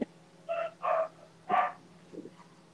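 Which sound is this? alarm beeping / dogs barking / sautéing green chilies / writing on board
dogs barking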